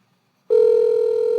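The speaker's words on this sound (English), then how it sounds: "Phone is ringing." A telephone rings during a podcast recording: a steady, loud electronic ringing tone starts abruptly after a short silence and holds unbroken, with no talk over it.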